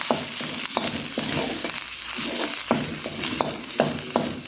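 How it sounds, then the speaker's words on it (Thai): Red curry paste stir-fried in a pan over low heat with pork belly fat and milk nearby, a steady close sizzle broken by repeated scraping strokes of a spatula, with no voices. "เราก็จะผัดพริกแกงไปอย่างนี้ก่อนนะครับคุณผู้ชม ให้หอมๆก่อนนะคะ"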